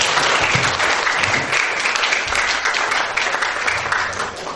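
Sustained applause from an audience at an Indonesian gathering, dense steady clapping throughout with a few low murmurs beneath, fairly loud and close.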